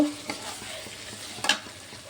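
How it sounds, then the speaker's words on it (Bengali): Rohu fish masala with turmeric, cumin powder and chilli sizzles steadily in hot oil while a spoon stirs it, with a brief louder scrape near the end, close and alone. "অল্প একটু নেড়ে চেড়ে নেবো।"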